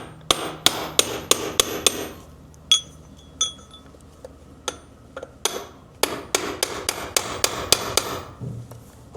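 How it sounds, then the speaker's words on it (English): A big steel chisel is hammered against a performance end cap to knock it loose. The blows land loud and close in bursts of sharp metallic whacks and clinks, several quick strikes at a time, with brief pauses between volleys. "I just use a big chisel. And I just get to whacking."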